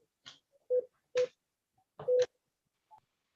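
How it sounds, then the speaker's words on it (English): Telephone dialing tones for a call: a few short keypad beeps spaced irregularly, each mixed with a soft click, clear and isolated against near silence. "I need to make a quick phone call."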